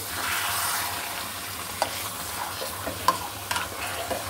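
Beef stir-fried with spices restaurant style, a steady sizzle in a pan with occasional sharp scrapes and clicks of a stirring utensil, close and alone without talk.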